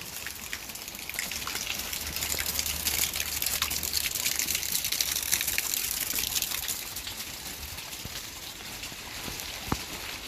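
Heavy rain pours down steadily outside a house under construction while water gets inside. It makes a dense, continuous hiss and gush with no pauses.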